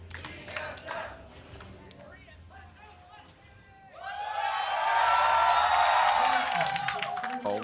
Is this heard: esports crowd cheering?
yes